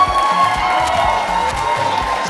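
Fundraising audience at a Houston 2016 FGCE reunion and convention breaks into loud, sustained cheering and applause after a $10,000 pledge, a dense crowd roar with whoops and clapping filling the room.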